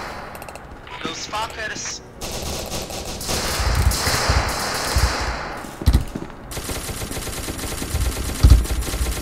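Gunfire in the video game SCP: Secret Laboratory crackles in dense automatic bursts and scattered heavy shots, loud and close, with a player's voice cutting in briefly over the shooting.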